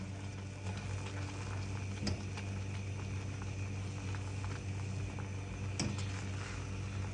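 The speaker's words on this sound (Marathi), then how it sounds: "आता अजून आपण एक 2-3 मिनटं हे शिजवून घेऊ" Raw mango pickle, sweet, sour and spicy, simmering and thickening in a kadhai, giving a steady low bubbling and hiss with a couple of brief clinks, with no voices.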